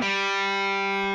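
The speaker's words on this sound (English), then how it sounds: "doing a pull off from 5 to 4 on the third string" A single distorted electric guitar note from a pull-off on the third string rings steadily with rich overtones, loud and sustained for about a second.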